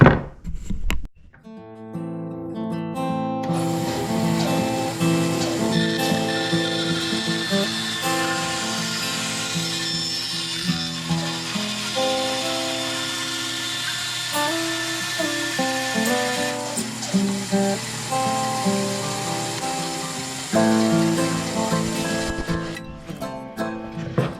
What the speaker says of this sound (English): So I'm going to go over to the bandsaw and make that cut.